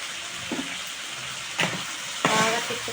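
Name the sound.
grated dry coconut and small onions frying and being stirred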